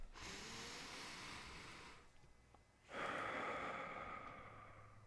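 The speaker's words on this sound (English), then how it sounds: "it's as simple as just taking a deep cleansing breath" A person takes a deep cleansing breath, with a long audible inhale followed by a slower, breathy exhale after a short pause. It is close and soft, with no talking.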